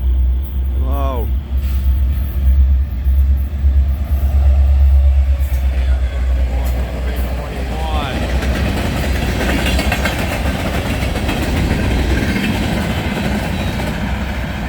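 A CN SD70M-2 and a CN SD40-2W diesel locomotive haul the northbound local freight train L555 in Illinois. A loud, steady close-up rumble carries the passing train, with brief tonal squeals riding over the rolling noise.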